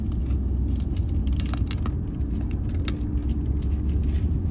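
A car drives along a road in Poland near Przemyśl, heading toward Rzeszów, with a steady low engine and tire rumble from inside the cabin, and occasional light rattles and clicks over the drone.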